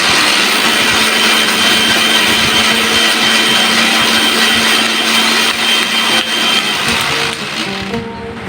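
A Vision Blender SBS-011 grinds cumin seeds in a loud, steady motor whine that runs unbroken for several seconds, then dips slightly near the end as the motor winds down.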